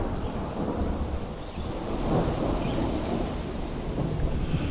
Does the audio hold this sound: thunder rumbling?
yes